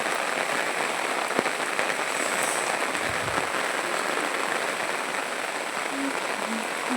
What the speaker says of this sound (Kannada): ಇವತ್ತು ಇಡೀ ದಿನ ಮಳೆ